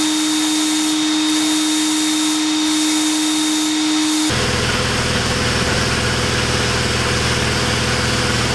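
Sandblaster blasting an exhaust manifold inside a cabinet: a steady broadband hiss with a hum, which switches abruptly halfway through to a louder, rougher continuous roar of blasting air and grit.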